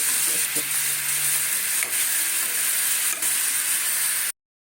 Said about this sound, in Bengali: এগুলো সুন্দর করে এভাবে কষিয়ে নেব